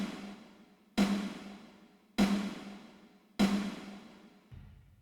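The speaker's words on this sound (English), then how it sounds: "So I have one of the snare tracks going to our reverb." Four snare drum hits from a rock mix, sent through reverb, strike at steady intervals, each with a sharp crack and a long washy tail that fades before the next; heard alone, with no talking.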